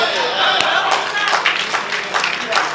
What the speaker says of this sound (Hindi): पूरे सदन में जोरदार तालियां एक बार